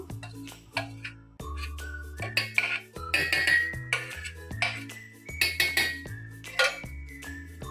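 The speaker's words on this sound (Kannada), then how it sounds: "ಈಗ ಇದನ್ನು ಮಿಕ್ಸಿ ಜಾರಿಗೆ ಹಾಕ್ಕೊಳ್ತಿದ್ದೇನೆ" Mango mixture being scraped and spooned into a mixer grinder jar for homemade mango ice cream, with repeated close metal-on-metal clinks and scraping knocks over a steady low background hum.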